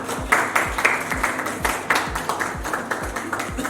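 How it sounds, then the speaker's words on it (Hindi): Applause at an award show honouring a guest, close and fairly loud, with a few near hands clapping in a quick, uneven rhythm over a reverberant hall and strong low thumps. "तालियां।"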